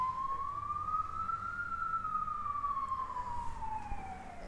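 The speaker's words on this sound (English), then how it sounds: "Sorry about the siren, but I'm right next door to the fire station." A fire engine siren wails, rising slowly in pitch and then falling, steady and fairly close beside a fire station in Wellington, over a low rumble of traffic.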